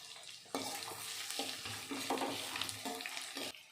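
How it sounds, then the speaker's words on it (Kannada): Green chillies and chopped onions fry in oil for bansi rava uppittu, a soft, steady sizzle broken by several spoon-stirring scrapes, quiet and close, with no speech. "ನಾವು ಹೆಚ್ಚಿಟ್ಕೊಂಡಿರೋ ಈರುಳ್ಳಿ ಹಾಕಿ ಹುರ್ಕೊಬೇಕಾಗುತ್ತೆ"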